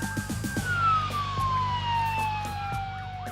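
Police and emergency vehicle sirens in Dubai wail with a falling pitch sweep, loud and fairly close, joined by rhythmic horn-like blasts and rumbling traffic at an accident scene.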